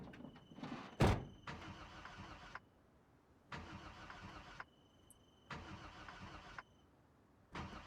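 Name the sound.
car engine starting in the video game Project Zomboid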